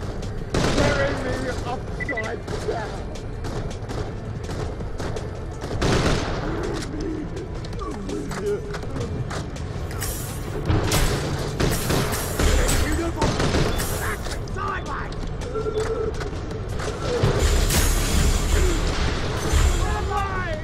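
Gunfire in Borderlands: The Pre-Sequel comes as bursts of rapid shots and impacts, fairly loud and continuous throughout, with someone talking over the action.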